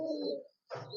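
Pigeons coo close by in two short bursts separated by a brief pause, their soft throaty calls standing alone with no talk over them.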